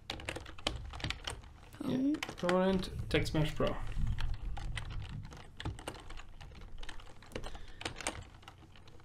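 Code is typed on a computer keyboard in rapid bursts of crisp clicking keystrokes, continuing throughout while people talk over them.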